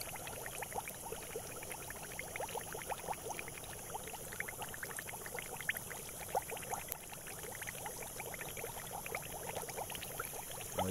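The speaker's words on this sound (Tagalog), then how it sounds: "Yun, hinigop na yung tubig." Water gurgling and being drawn down into a strong underground spring tapped for rice paddy irrigation, a steady churning, bubbling rush that stays fairly even and close throughout, with no talking.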